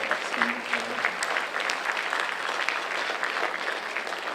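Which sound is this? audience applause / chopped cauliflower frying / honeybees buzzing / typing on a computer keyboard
audience applause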